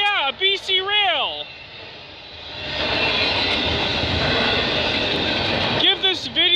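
Someone talks briefly, then the loud roar of two freight locomotives, including BC Rail 4651, passing close by on a snowy night at Burlington West fills several seconds before his voice returns.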